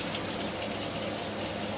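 Very hot water gushes steadily from a tap into a plastic paint-saving container with a 2-quart mark, a loud, continuous splashing rush with no voices.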